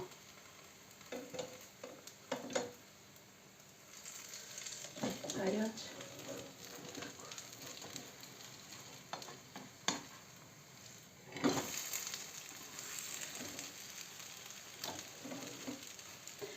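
Thick apple crepes fry in a little oil in a pan with a faint, steady sizzle. A spatula scrapes and taps now and then as they are turned, and a person talks over the cooking throughout.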